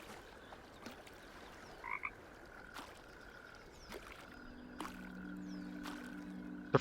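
A frog croaks in Talos II, a short double call over a steady ambient game soundscape, with faint water and a low hum entering later.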